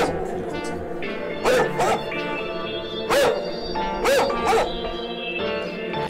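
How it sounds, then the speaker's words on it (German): A dog's barks, heavily distorted and overdriven, ring out in a music track's playback, about four sharp bursts over a steady beat, loud and up front. "Ist das, ihr wollt, dass der Hund so übersteuert klingt?"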